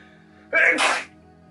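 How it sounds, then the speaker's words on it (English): A single sharp sneeze, short and close, with a brief inhale leading into the burst. "I'm about to sneeze."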